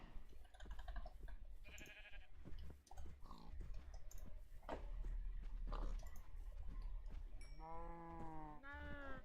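Minecraft livestock bleating and lowing in a modded game, several short animal calls toward the end over soft clicking and game ambience, fairly faint.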